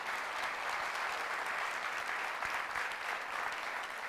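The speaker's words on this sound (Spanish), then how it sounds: "Dele fuerte ese aplauso al Señor" Church congregation applauding steadily, a dense continuous wash of clapping at moderate distance throughout, with no talk over it.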